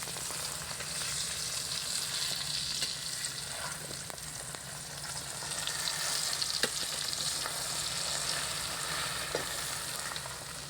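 Water spinach omelette fries in an oiled pan, a steady dense sizzling hiss running throughout with occasional small pops and a light clink or two, no voices.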